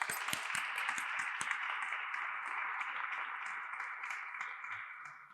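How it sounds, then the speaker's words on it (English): An audience at a SXSW London panel session breaks into applause. Dense clapping starts with a few sharp claps and holds steady for several seconds before easing slightly. "So can we give them all a round of applause"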